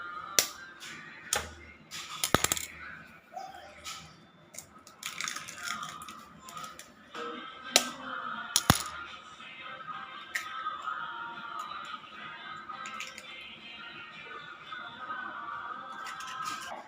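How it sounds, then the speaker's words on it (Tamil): Three eggs being cracked into a bowl for a bread omelette, a few sharp, separate cracks and clicks with light clinks and kitchen handling noise between them, fairly quiet and close. "இப்போ பார்த்திங்கன்னா நாங்கள் 3 எக்கு தான் போட போகிறோம்."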